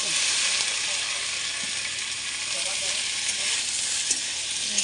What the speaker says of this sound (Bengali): চালটা দিয়ে নাড়তে হবে